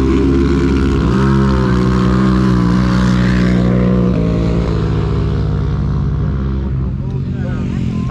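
An ATV quad engine at a dirt bike and ATV drag racing park, a loud, steady, close drone that rises and falls slightly in pitch and runs without a break.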